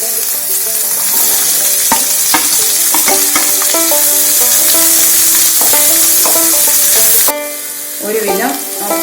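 Onions sizzle steadily while frying in a pan for a traditional South Indian roasted chicken curry, with repeated scraping stirs and a continuous hiss throughout.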